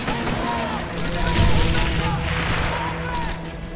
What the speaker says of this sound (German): Vorsicht, Granate!